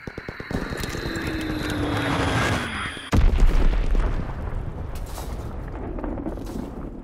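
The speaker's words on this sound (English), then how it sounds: "Enemy bomb incoming. Get to cover." A bomb explodes in the Call of Duty: WWII video game, a sustained loud roar that gives way near the midpoint to a heavy, rumbling blast and debris. No one talks.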